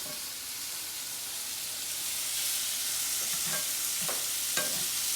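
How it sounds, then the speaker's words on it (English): Salmon fillets sear in a hot pan after being flipped with a spatula, giving a steady close sizzle and hiss with a few soft scraping clicks from the spatula near the end. "We're gonna go ahead and flip the salmon so that we have a nice sear there."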